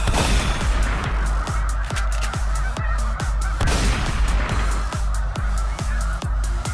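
Wild geese on water honk repeatedly and loudly nearby during a goose hunt. The calls come in a busy, overlapping series over a low rumble, with sharp percussive cracks mixed in.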